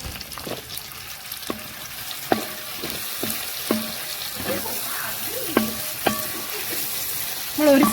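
Capsicum stirred and frying in a pan, a steady sizzle under repeated sharp clinks and scrapes of a utensil against the pan, with a louder burst of frying at the end.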